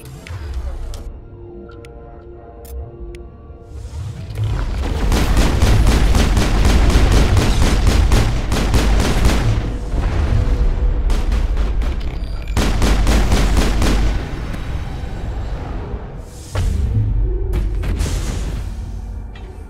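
Sustained gunfire in a Mass Effect firefight, with rapid machine-gun bursts and booming shots that come in loud waves, stop briefly, then start again.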